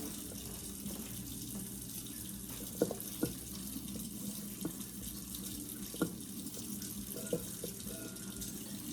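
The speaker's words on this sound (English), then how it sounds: "I'm going to get my hot water going" Hot water running steadily from a kitchen tap while tortilla dough is made, a continuous soft hiss and splash with a few light knocks and clinks over it.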